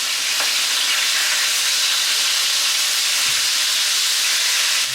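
Meat sizzles loudly and steadily in a hot frying pan, with a couple of faint knocks as the pieces are pierced and turned.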